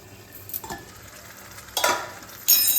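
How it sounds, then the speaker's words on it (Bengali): Bottle gourd leaves wrapped around fish are stirred in a pan, with a few scraping, rustling strokes and a soft sizzle between them, loudest near the end. "এবার আমি পাতাটাকে একটু নাড়িয়ে নিচ্ছি যাতে এই প্যানের মধ্যে লেগে না যায়"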